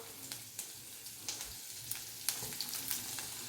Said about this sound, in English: The oil is hot. I'm going in with the garlic, ginger,